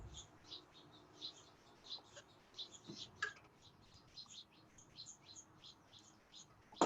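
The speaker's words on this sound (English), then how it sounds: "I have a bird feeder literally behind my head. So you can hear all the house finches probably" House finches chirp at a backyard bird feeder, with a steady scatter of short, high tweets and calls close by and repeating through the whole stretch. No one speaks.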